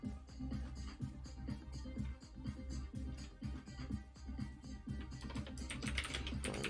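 Rapid typing on a computer keyboard: a close, dense run of crisp key clicks with uneven rhythm, continuing for several seconds with no speech.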